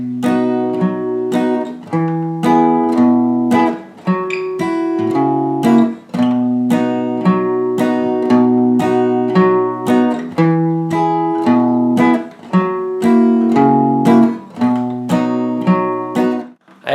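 A guitar plays a pattern of bass notes and chord strums in a steady, bouncing rhythm, close and clear with no talking.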